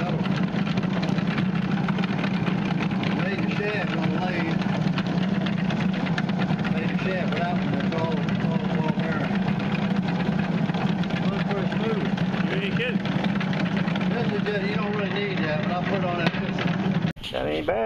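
A coin tumbler loaded with gravel runs with a steady, droning motor hum and a fine churning rattle, a voice talking over it, until a sudden clunk near the end.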